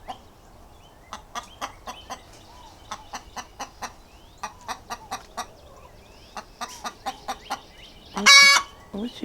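Backyard chickens clucking in a steady series of short, sharp calls with brief pauses, fairly close, ending in a louder squawk, with no talking over them.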